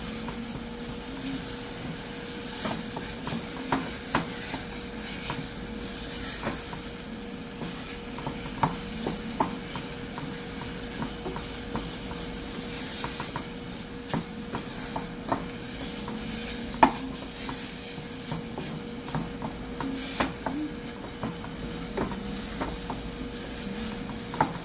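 Low carb keto vegan mash is stirred in a pan for a long stretch, a steady soft scraping and mushy churning with faint sizzle underneath and small spoon clicks, close and without speech.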